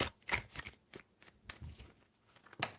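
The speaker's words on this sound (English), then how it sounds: "3 shuffles." A tarot deck is shuffled in a series of light, scattered card flicks and slides, close but fairly quiet, with no speech.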